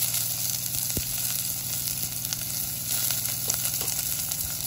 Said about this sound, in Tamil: இப்போ கறிக்கு தாளிக்க போட்டாச்சு.